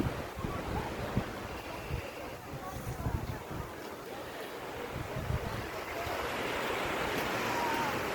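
Waves wash steadily along the northern stretch of Balmoral Beach in Sydney Harbour, a continuous soft surf hiss with gentle swells and some wind rumble on the microphone, no voices.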